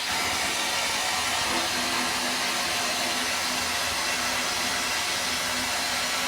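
A homemade vapour blasting cabinet runs under air pressure, giving a loud, steady, unbroken hiss of rushing air and spray that holds at the same level throughout, with no talking.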